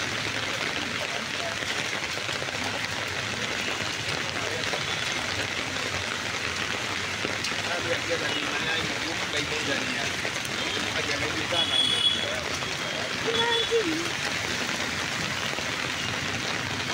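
Heavy rain pours down during a flood on the outskirts of Nairobi, Kenya, a dense, unbroken hiss of water that stays loud throughout, with faint voices in the background.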